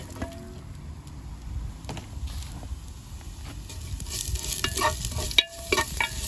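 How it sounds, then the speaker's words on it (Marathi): Onions fry in oil in a clay pot over a firewood fire for a Goan beef chilli fry, giving a steady close sizzle with scraping stirs and a few sharper clinks. "हांव आतां तेल घातां. तितून आमी आतां पियाव भाजया."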